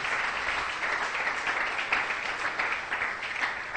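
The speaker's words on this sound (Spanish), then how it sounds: "Dele ese aplauso al Señor, confíe." Church congregation applauding during a Spanish-language sermon, a steady even patter of many hands filling the whole moment at moderate loudness, with no voices standing out.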